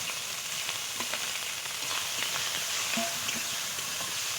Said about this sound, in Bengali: এই চিংড়ি মাছটা ভেজে নেবো।